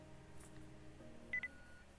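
A heretic detector in the video game Nikke: Goddess of Victory gives quiet electronic beeps: a brief pair of high beeps near the end of the clip over a faint, steady hum.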